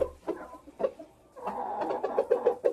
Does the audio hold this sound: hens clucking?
yes